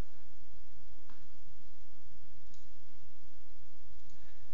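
A few faint, isolated computer mouse clicks, spaced about a second apart, sound over a quiet background hiss.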